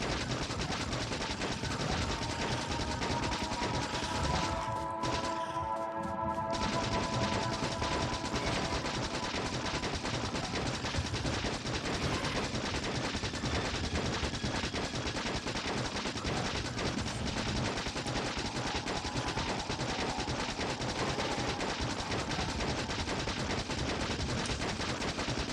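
Pistol fire in the Factorio Space Age video game, a steady run of rapid shots continuing throughout, loud and close, with no talking.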